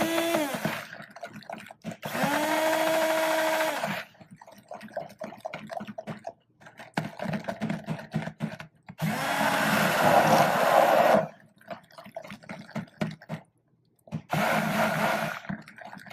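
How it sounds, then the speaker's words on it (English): Blender-style stick mixer whirring in cold process soap batter after salt is added, three steady bursts of several seconds each separated by quieter handling and clinks, fairly close and with no talking. "dump my salt in, and then mix it to a thicker trace"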